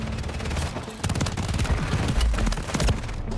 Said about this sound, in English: just getting shot by so many people around